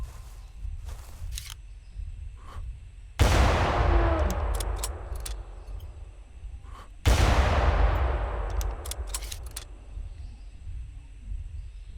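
Two heavy rifle shots ring out in the hunting game Prehistoric Hunt, each a sharp loud crack whose echo rolls away over several seconds, spaced about four seconds apart, with faint clicks and small game noises between them.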